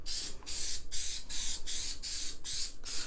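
A spray can of adhesive hisses in seven short bursts, evenly paced, close and fairly loud, with brief gaps of quiet between each spray and no talk.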